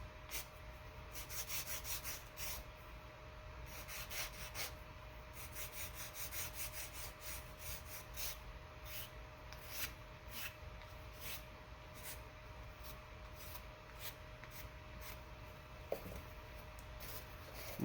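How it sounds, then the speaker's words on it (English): A sanding block rubbed back and forth to smooth rough edges on parts for an Echo P-30 build, giving a steady, close scraping hiss with rhythmic strokes throughout and a constant background hum. "take a sanding block and smooth off any rough edges"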